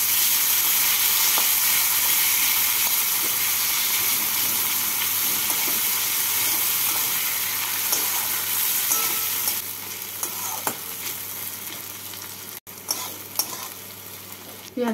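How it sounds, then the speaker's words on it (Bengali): Chopped onion frying in oil until reddish-brown for a potato curry (muro alur ghonto), a steady close sizzle with occasional stirring scrapes and a brief pause near the end, no one talking. "পেঁয়াজটাকে লাল করে ভেজে নিচ্ছি।"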